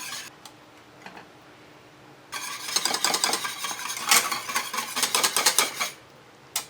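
A whisk scraping and clinking rapidly against a metal pot of simmering passion fruit tres leches mixture, starting after a quiet moment and continuing as a busy, close, rhythmic rattle before stopping briefly near the end.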